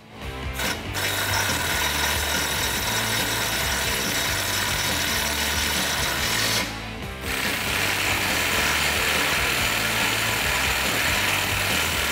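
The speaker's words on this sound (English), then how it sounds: "to tighten these up, you're going to use an 18mm socket on the bolt side and a 19mm on the nut side" A socket wrench tightens the bolts and nuts of a DV8 Off-Road RS-1 steel rear bumper and tire carrier on a 2007–2018 Jeep Wrangler JK, giving a steady, close rasping and grinding that runs nearly throughout with one brief dip.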